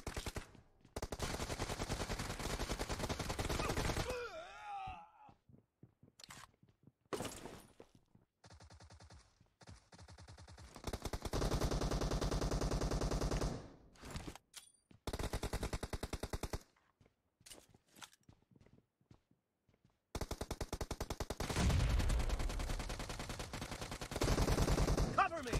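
Rapid automatic gunfire bursts in the mobile game PUBG Mobile arena mode, long loud rattling volleys separated by gaps and scattered single shots, close and harsh, with brief game announcer voice lines between.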